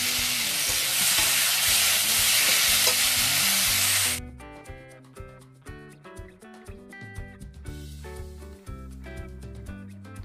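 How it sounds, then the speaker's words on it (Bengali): Ridge gourd and potatoes stir-frying in spices in a pan give a loud, dense sizzle for about four seconds, close up, before it cuts off and background music continues alone. "ঝিঙে আলুটাকে কষিয়ে নিতে হবে এবং মশলার মধ্যে মাখিয়ে নিতে হবে ঝিঙে আলুটাকে"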